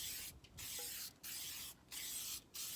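Plasti Dip is sprayed onto the rims of a 2007 GMC Yukon Denali in a steady crisscross pattern, producing loud, close hissing bursts separated by four brief pauses.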